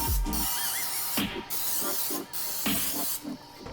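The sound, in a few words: cooking spray sprayed into cake pans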